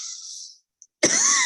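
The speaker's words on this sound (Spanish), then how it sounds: "tengo muchísima tos" A single sharp cough breaks in after a short stretch of a voice and a moment of silence, then continues as a harsh, rasping burst close to the microphone.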